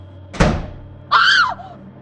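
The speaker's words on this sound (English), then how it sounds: "the door to the room slammed shut" A room door slams shut in a single sharp, loud thud, followed moments later by a brief high, wavering cry, in an otherwise quiet indoor space.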